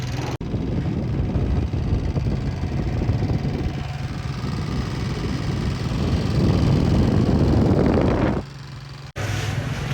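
A scooter engine drones on steadily close by for around eight seconds, its rough rumble rising slightly before it cuts out sharply near the end.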